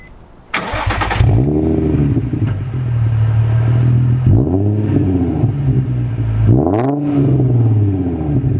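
A Nissan 350Z engine starts from cold with a sharp crank and catch, then settles into a loud, close idle broken by two quick revs that swell and fall back, with no talking.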